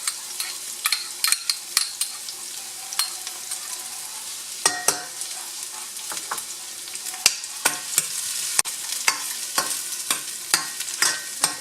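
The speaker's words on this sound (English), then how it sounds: "Okay, garlic is starting to turn golden brown." Garlic frying in a pot for chicken soup, a close, continuous sizzle broken by frequent sharp scrapes and clinks of a utensil stirring against the pot, with no talking.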